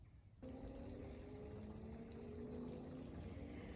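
A drip irrigation bubbler sprinkler head switches on with a sudden steady rush of flowing, gurgling water that holds constant to the end, close by outdoors.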